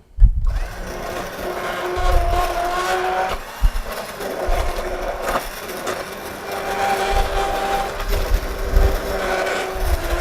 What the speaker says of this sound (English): We're going to take a immersion blender, just kind of puree it up a little bit.